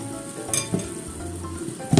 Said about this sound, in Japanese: そしてちょっと煮ますね